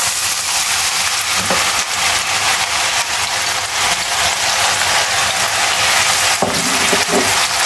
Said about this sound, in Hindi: ऑयल गर्म हो गया है, अब हम ऐड करेंगे प्याज।